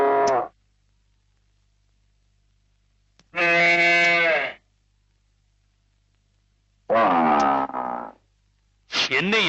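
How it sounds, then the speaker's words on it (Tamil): Cattle lowing: several drawn-out, rich moos, each a second or so long, rising clearly out of silence with quiet gaps between calls. "மாட்டு சத்தம் வருது?"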